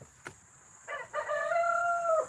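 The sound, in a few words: rooster crowing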